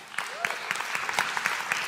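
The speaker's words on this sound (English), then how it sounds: "Yes, big round of applause" An audience at a motivational mindset talk applauding, a run of clapping with distinct sharp hand claps standing out over a softer background of hands, moderately close, with a brief voice near the start.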